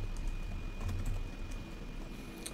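Keys tapped on a computer keyboard while entering code in Roblox Studio, a soft steady patter of clicks with a faint constant hum underneath and no voice.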